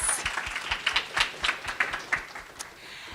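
An audience at a fashion talk applauds, with moderately faint, somewhat sparse clapping that thins out toward the end.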